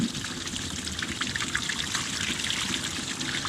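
Water trickles and pours steadily over a freshly caught lake catfish to rinse off blood, a close, continuous splashing stream with no talk.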